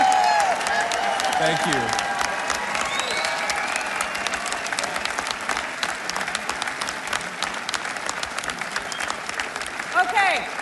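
A conference audience gives a standing ovation, with dense, steady applause from a large crowd that stays loud and unbroken for about ten seconds while someone briefly speaks over it.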